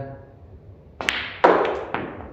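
A few sharp billiard clacks from a soft cue-ball stop shot, a firm cue strike followed by ball contacts, spaced about half a second apart over a quiet room hum.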